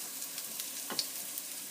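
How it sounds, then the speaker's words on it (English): Chopped garlic frying in oil in a pan for Chinese noodles, stirred with a wooden spoon, giving a faint, even sizzle with light scraping and small pops. "Stir the garlics. Make sure your head's back so the oil's not spitting in your face."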